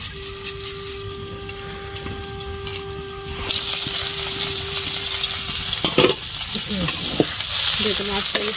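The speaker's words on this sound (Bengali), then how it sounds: "ভাজবো।" Tomatoes frying in hot oil in a village-style kitchen, a steady close sizzle that grows louder and denser partway through, with a few clinks of stirring near the end.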